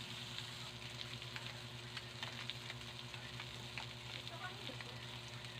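Yellowfin tuna steak frying in a pan, a steady close sizzle with scattered crackling pops running the whole time over a constant low background hum.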